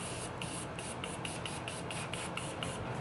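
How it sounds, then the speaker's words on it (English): A face mist, Morphe Continuous Setting Mist, sprays in a steady run of quick, close pumps that hiss together with a fast regular rhythm. "I'm just gonna spray my face down with the Morphe Continuous Setting Mist."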